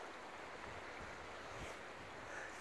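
Ocean waves wash onto a sandy beach beside dunes in Quebec, Canada, a steady broadband surf roar mixed with wind buffeting the microphone throughout.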